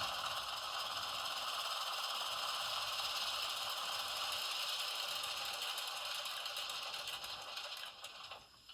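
Engine shutdown sound from a Rapido GE 44-tonner DCC model locomotive in Southern Pacific livery: a steady rattling diesel hum that runs evenly, then winds down and fades near the end, with no voices.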